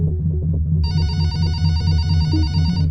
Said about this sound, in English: The phone kept on ringing